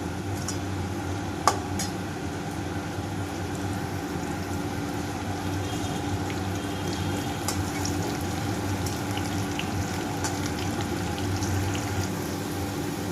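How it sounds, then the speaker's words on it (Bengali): Young jackfruit pieces fry in hot oil for a shrimp curry, giving a steady, even sizzle with a few faint clicks and taps from the pan. No voices are heard. "ওই তেলেই আমি এঁচোড়টা একটু ভেজে নেবো"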